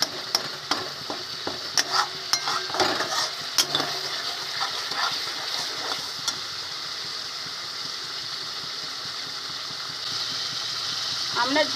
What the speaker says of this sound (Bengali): এবার ভালো করে আমরা সাঁতলে নেব।